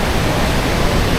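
Roaring rush of a roughly 30-metre waterfall running through a green valley in Iceland, a dense, loud, unbroken wash of water noise heard up close.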